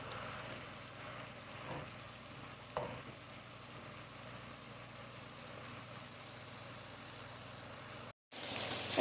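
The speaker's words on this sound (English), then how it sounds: "I'm just going to be breaking this up and stirring every now and then and letting it brown really nicely" Ground meat browning in a pot for a one-pot Zuppa Toscana, a faint steady sizzle with a few soft scrapes as it is broken up and stirred, distant and quiet, cut briefly by a dropout near the end.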